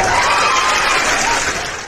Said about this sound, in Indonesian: Kita kasih tepuk tangan dulu teman-teman.